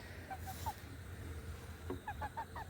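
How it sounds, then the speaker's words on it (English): Soft, faint clucking from a chicken in two short bursts, a few quick notes each, over a low steady hum. "Steve had a chicken similar to Nugget"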